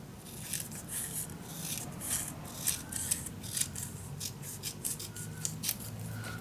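Scissors snipping through patterned paper for a scrapbook mini album, a series of crisp, close cuts in irregular rhythm over quiet background.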